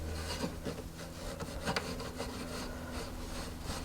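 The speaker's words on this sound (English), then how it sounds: "Pull the wire wool all the way along, rubbing through." Wire wool rubbed repeatedly along a twisted wire hoop earring makes a steady, close scratchy rasping with short rhythmic strokes throughout.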